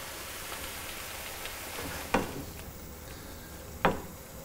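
Low-salt vegetable stock goes into a pan of sizzling mushrooms and courgette, leaving a soft, steady sizzle and bubbling broken by two sharp utensil clinks.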